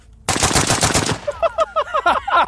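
URGI 11.5 short-barreled rifle firing 5.56 rounds in a fast, loud automatic burst of cracking shots, followed by sharp ringing echoes and rapid trailing reports.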